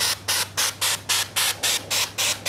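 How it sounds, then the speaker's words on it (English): Popcorn-texture patch aerosol sprayed onto a Christmas tree as flocking: ten short, even hissing bursts in a steady rhythm, close and fairly loud, with brief gaps between them and no talking. "I'm going to use my popcorn patch spray. And this, of course, I'm just going to do it in short bursts"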